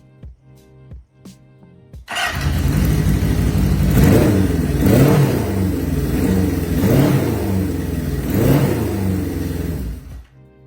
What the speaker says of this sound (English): If you like the idea of a 4-out exhaust note and a smooth revving engine